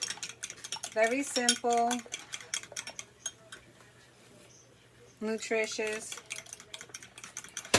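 A fork whisks eggs for torta de huevos with rapid clicking, tapping strokes against a bowl, coming in two bursts under and between a person's speech.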